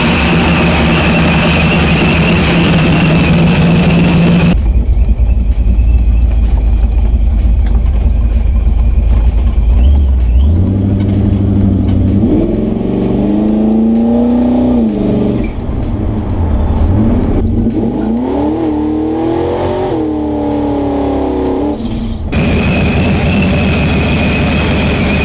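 A truck engine fitted with Holley Sniper fuel injection drives off, the low engine drone rising and falling through several revving gear pulls over about twenty seconds, steady and close with no talking.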